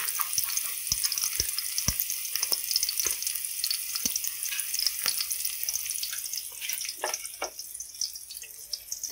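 Onion and garlic sizzle in a hot pan with steady frying hiss and scattered sharp pops and crackles, no talking.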